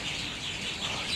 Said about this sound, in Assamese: হাজাৰ হাজাৰ লাখ লাখ চৰাইৰ মাত শুনাম।